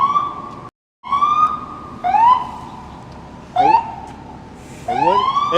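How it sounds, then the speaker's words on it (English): A loud, close emergency siren wailing in repeated rising sweeps on a Manhattan street in New York, with a short gap near the start and traffic rumbling underneath. "It wouldn't be New York without sirens."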